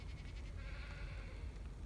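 Goats bleat outdoors at a distance, a faint wavering call over steady low wind and background noise.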